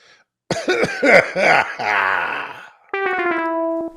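Someone imitates a drum roll by coughing, a quick burst of several close, loud coughs and throat noises, followed by a sustained tonal buzzing sound at the end.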